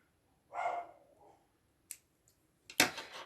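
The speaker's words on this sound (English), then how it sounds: "my apologies if you can hear Toby barking." Toby the dog gives a short muffled bark in another room, faint and brief, followed by a few sharp clicks and a rustling snap close by.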